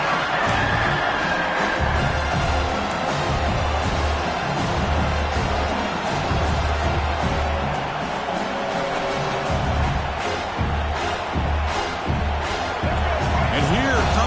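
A large stadium crowd at an American football game roars steadily throughout, a dense wall of cheering and shouting urging a red zone defensive stop, with occasional swells and a sports announcer's voice faintly underneath.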